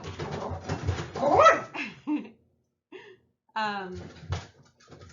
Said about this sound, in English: The mailman is here and my dog is freaking out.